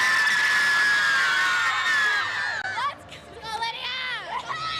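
Crowd at a U13 AAA provincial hockey game cheering after a Citadels overtime win: high shrill screams and shouts, many children's voices, loud at first then fading into scattered yells and chatter.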